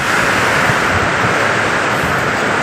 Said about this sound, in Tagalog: Ang lakas ng ulan, ang lakas ng hangin